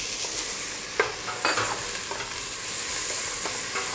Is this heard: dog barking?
no